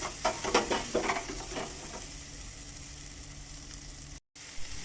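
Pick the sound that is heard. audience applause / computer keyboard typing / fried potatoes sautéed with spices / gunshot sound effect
fried potatoes sautéed with spices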